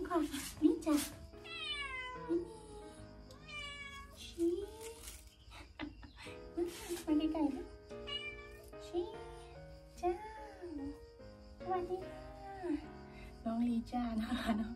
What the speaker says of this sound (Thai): เอ้าน้องแมวมาทักทายนี่ก่อนนี่จ้ะ